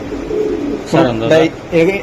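Racing pigeons coo up close, including a 2024 female, in two or three low, throaty bursts, with a softer murmur between them.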